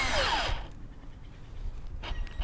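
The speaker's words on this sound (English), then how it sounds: "Since we're going at an angle using a hand drill, it is quite difficult for the drill bit to cut through." A hand drill grinds briefly at an angle into a wooden stool seat with a rising whine, then goes quiet before a second short burst of drilling close by.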